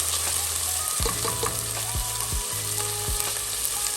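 Ginger garlic paste fries on a high flame for lauki gosht, a loud, steady sizzle broken by several sharp scraping stirs of a spoon against the pan.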